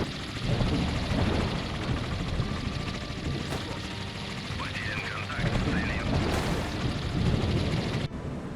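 A Ka-27 helicopter in the naval combat game Sea Power, heard as a continuous heavy rotor rumble with blasts and storm noise layered on, loud and dense until cutting off near the end, with brief faint voice.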